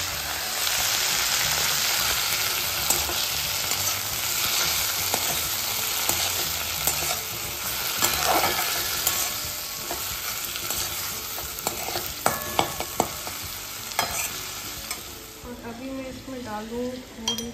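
Tomatoes hit a hot pan and keep up a steady sizzle while being stirred, with scraping clinks of a spoon toward the end and a voice briefly heard over the frying.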